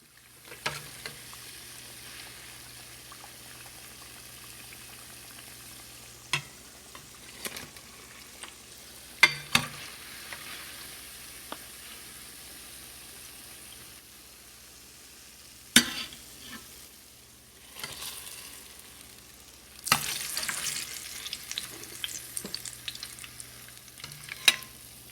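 Fried pakoras go into a pot of simmering karhi and are stirred, giving a soft bubbling bed broken by scattered clinks and scrapes and a few sharper splashes and stirs later on.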